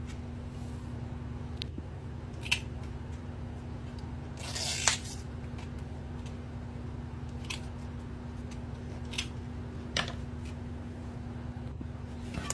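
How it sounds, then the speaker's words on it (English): Several sharp snips of scissors trimming artichoke leaves at irregular intervals over a steady low hum, quiet and close, with one longer rustling crunch midway. "I'm going to grab a pair of scissors and just trim them"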